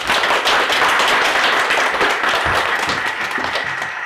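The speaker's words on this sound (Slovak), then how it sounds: "Tak poprosím jeden veľký potlesk pre pána Horára." A large audience applauds steadily and loudly at a children's stage show, a dense wash of many hands clapping that fills the whole stretch without pause.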